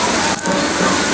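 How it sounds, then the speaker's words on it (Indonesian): Steady rain pours down outside a bus travelling near a ferry port on the Banyuwanti route, a dense continuous wash of falling water with one brief dip midway. "Dan ini untuk cuacanya masih hujan ya."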